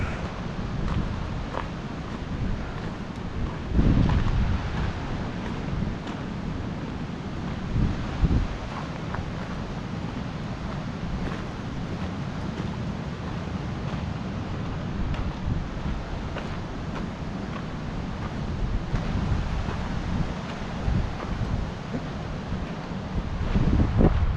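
River water rushes steadily at a hiking trail crossing near Carter Falls on Mt Rainier's Wonderland Trail, a continuous broadband roar mixed with wind buffeting the microphone and no talking.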